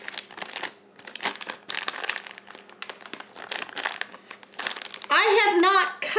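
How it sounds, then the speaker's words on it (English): Plastic piping bag filled with chocolate ganache being squeezed and pushed down by hand, giving close crinkling and rustling in irregular bursts, with a short burst of speech near the end. "I'm just going to push the ganache down."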